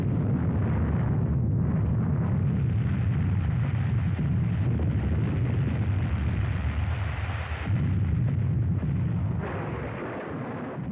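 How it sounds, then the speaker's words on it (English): The first experimental atomic bomb test near Alamogordo on July 16, 1945 comes through as a continuous, heavy, roaring rumble that stays loud for the whole stretch and eases slightly near the end, with no voices. "an experimental bomb was detonated with results that were incredible"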